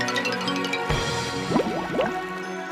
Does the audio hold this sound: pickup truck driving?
no